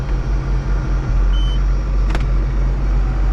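A tractor engine revs up to about 1800 RPM to drive a hay baler, a steady loud low drone with a few uneven thumps early on and a brief higher clank near the middle.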